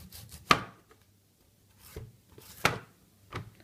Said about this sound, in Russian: У основания нужно срезать обычным ножом.